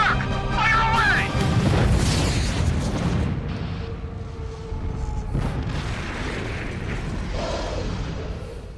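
Bomber squad explosions in the video game Uprising roll out as heavy booming blasts and crashes, loud and layered over several seconds with mechanical rumbling and some game voices.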